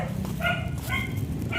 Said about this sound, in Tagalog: May aso lang po sa unahan.